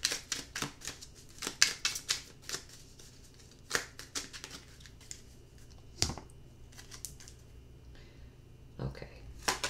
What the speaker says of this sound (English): I really want to shuffle these really good here.